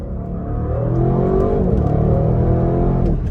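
A 2024 Audi RS6 Performance station wagon accelerates hard, its engine note rising in a strong, steady roar that climbs in pitch, loud and close from the cabin with no voices.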